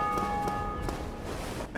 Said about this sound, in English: Oh, somebody rang the bells.